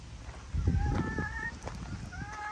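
Chickens on a farm, with a rooster crowing in two drawn-out calls over scattered clucking and low rustling nearby.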